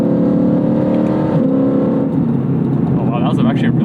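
A track-prepped Lexus IS F engine revs loudly and steadily up close, a strong droning rumble that swells slightly while a voice speaks over it.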